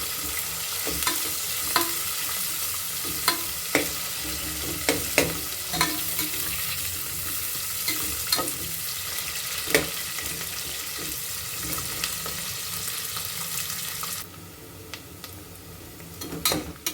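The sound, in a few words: onions frying in oil for biryani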